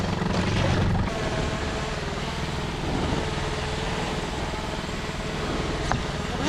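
A camera drone flies in strong wind by the ocean on northern Vancouver Island, its steady rotor whine and buzz running throughout over rough wind noise, fairly close and loud.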